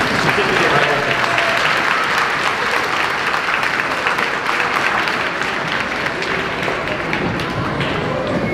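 Sustained audience applause for an award-winning student at a 5th grade moving-up ceremony, a dense steady wash of many hands clapping throughout with some voices mixed in.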